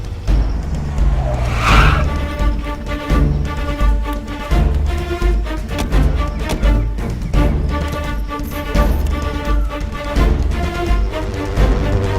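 A car brakes hard with loud screeching tire skids, the squeal building and sliding to a stop over engine rumble and dramatic background music.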